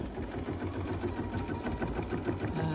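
Quilting machine sewing an edge-to-edge quilt, a steady quiet mechanical whir with fast regular needle stitching, continuous throughout and with no talk.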